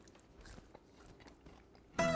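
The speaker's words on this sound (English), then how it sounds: "First thing you'll notice is how crunchy they are when you sprout them yourself." Home-sprouted lentils are bitten and chewed close up, with soft crunching through most of it and a louder sharp crunch at the end, no talking.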